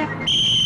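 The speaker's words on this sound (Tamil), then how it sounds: "யாருக்கு விசில் அடிக்கிறீங்க?" A sharp, piercing whistle blast starts abruptly and holds steady at full loudness, close and alone, in a comedy scene.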